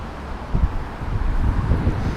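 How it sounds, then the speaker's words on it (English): Strong wind blows outdoors after a storm that brought down a big tree, with low, gusty rumbling buffeting close to the microphone that swells and stays rough throughout. "wind's picking up quite a lot here"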